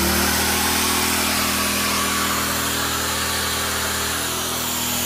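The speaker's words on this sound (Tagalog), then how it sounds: "So gamitin natin yung drill at grinder sabay." A power drill and an angle grinder run together off a portable inverter generator, a loud, steady, dense whine and roar that holds constant throughout with no voices.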